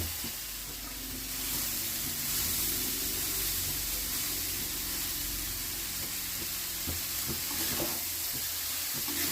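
Leftover rice frying with vegetables in a pan, a continuous loud sizzle and crackle with faint scraping from stirring, heard alone and steady throughout.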